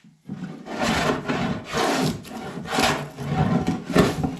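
Hand plane shaving a wooden table top: about five long, rasping strokes in a steady rhythm, close and loud, with no speech.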